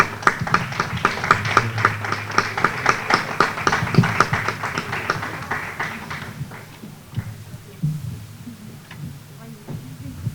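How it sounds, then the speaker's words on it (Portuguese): Audience applause, steady rhythmic clapping that is loud at first and thins out after about six seconds, with a voice speaking under the later part. "uma salva de palmas para eles"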